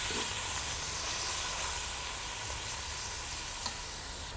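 Meat sizzles steadily in hot oil in a cooking pot as it is stirred, a continuous close frying hiss with faint scraping and no voices.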